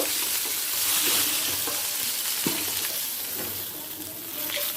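Katla fish pieces fry in hot oil in a pan, giving a steady, close sizzle with light crackles and a few soft stirring knocks throughout.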